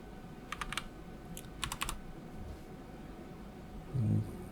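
A short value being typed on a computer keyboard while editing photos, a few quick bursts of close key clicks separated by pauses over a faint room hiss, with one soft thump near the end.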